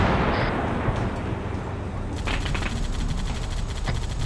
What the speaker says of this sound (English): Wow, that's a lot of gunfire.